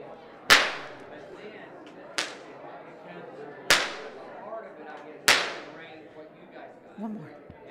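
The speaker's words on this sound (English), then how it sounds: "you crack the whip to get the horses started" A bullwhip cracks four times in the open air, each sharp snap well separated from the next and ringing out loud and near, with a softer fifth snap near the end.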